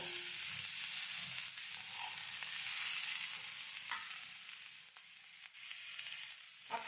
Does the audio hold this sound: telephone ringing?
no